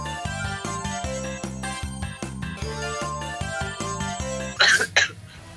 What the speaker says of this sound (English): you have a cough too?